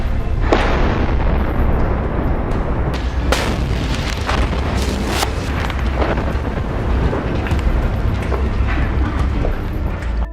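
Rockets and gunfire in a Hamas attack on an Israeli Merkava tank ring out as loud booms and sharp cracks, several distinct blasts clustered in the middle over a constant heavy rumble of wind and distortion.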